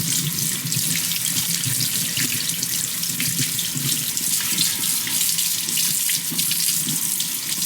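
A Japanese sweet potato washed under a running kitchen tap, a steady loud rush of water splashing into the sink, continuous and close with no talk.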